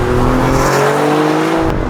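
A 2.9 litre turbocharged V6 in an Alfa Romeo Giulia Quadrifoglio, heard from inside the car as a loud, smooth, steady engine drone with a rising tone.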